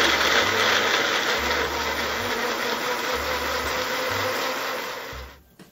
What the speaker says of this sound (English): Okay, I'm blending them right now.